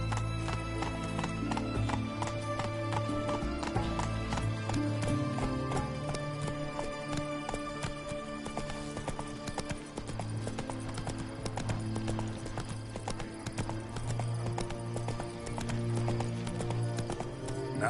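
Roach the horse gallops in The Witcher 3, rapid clip-clop hoofbeats running steadily and loud throughout, with an occasional whinny over a continuous game music and ambient bed.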